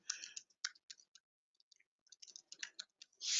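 Quiet, crisp keyboard clicks come in quick bursts separated by short pauses, like someone typing in spurts close by.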